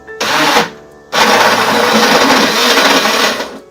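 A kitchen blender grinds a refreshing summer smoothie, roaring loudly in a short burst, pausing briefly, then running steadily for a few seconds before stopping.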